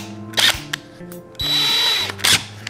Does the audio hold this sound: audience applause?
no